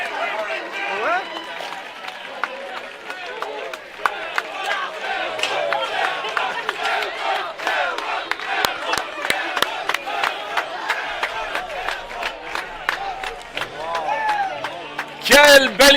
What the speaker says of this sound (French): Une belle main d'applaudissements aussi pour nos finalistes.